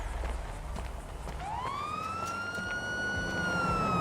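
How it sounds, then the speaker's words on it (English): A police siren from Grand Theft Auto 5 rises in pitch and then holds a steady wail, fairly loud over rumbling game ambience, with no talk. "Those sirens weren't for us."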